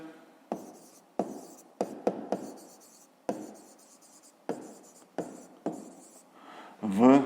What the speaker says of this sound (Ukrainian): Отже, пишемо добуток.